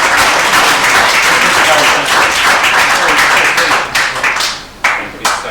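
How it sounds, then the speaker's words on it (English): Loud, sustained applause from an audience for a troupe of young Irish dancers, dense clapping throughout that thins and trails off in the last second or two, with a few voices mixed in. "Give them a round of applause."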